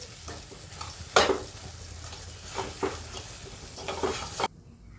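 A spoon stirs spice masala with salt and coriander through a pan for a ridge gourd (dodka) dish, scraping in repeated close strokes over a steady background sizzle, then the sound cuts off abruptly near the end.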